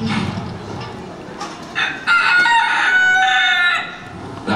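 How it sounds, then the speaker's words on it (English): Chickens cluck and a rooster crows loudly and close by on the grounds of a country hall, the calls rising into a sustained crow in the middle. "Chickens!"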